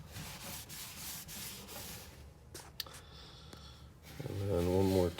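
Teak mid-century furniture being hand-sanded, a steady rapid rubbing rasp that breaks off into a short pause, followed by a voice speaking close by.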